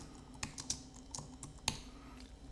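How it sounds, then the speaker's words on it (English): Computer keyboard keys pressed in an uneven burst of sharp clicks as several keys on the left side are mashed together in a quiet room, with no one speaking. "mashing down all the keys on the left side of the keyboard"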